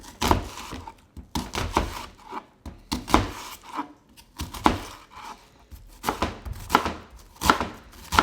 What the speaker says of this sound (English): Try not to cry while you're chopping it.